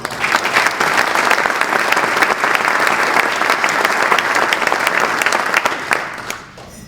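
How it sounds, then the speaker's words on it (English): A crowd at a startup competition gives a loud, sustained round of applause for entrepreneurs, thick, even clapping that tapers off at the very end. "Let's give these 3 groups of entrepreneurs another round of applause"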